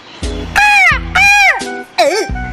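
Three loud, harsh crow caws ring out in quick succession as a cartoon sound effect, each a drawn-out nasal call, the last one wavering.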